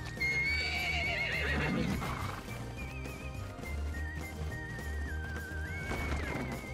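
A horse neighs and whinnies loudly in a video game adventure, its calls rising and falling over steady clip-clopping hooves and a continuous music-like background throughout.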